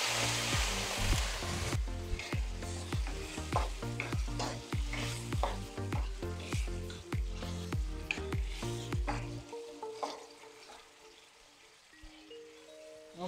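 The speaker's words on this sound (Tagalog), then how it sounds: "Lagay na natin ang gata." Coconut milk is poured into a pan and stirred for ginataang suso with tinapa, giving a loud steady sizzle with rhythmic scraping stir strokes that settles into a quieter bubbling simmer near the end.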